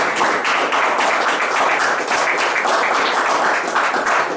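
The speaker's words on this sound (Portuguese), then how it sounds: "vamos aplaudir o Senhor em nome de Jesus, vamos celebrar na presença de Deus" Dense, sustained applause fills a church as a congregation claps together during a worship service, steady and loud throughout without talk.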